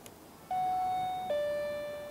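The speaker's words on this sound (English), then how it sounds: "Let's ring the bell and see what happens." A guesthouse doorbell in Korea sounds a clear two-tone ding-dong: a bright first chime, then a slightly lower second note that rings on and slowly fades over faint room hiss.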